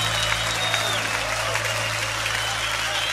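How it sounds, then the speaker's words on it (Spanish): Congregation applauding loudly and steadily during a church worship service, a dense wash of clapping sustained throughout with a steady low musical drone underneath. "Levanta tu aplauso a Él fuerte."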